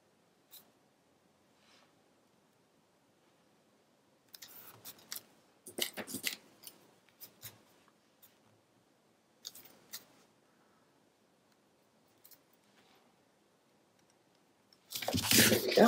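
Scissors trim a paper panel for a scrapbook page. Faint rustling is followed by several short crisp snips and crunches of cut paper, and a louder paper rustle comes at the end.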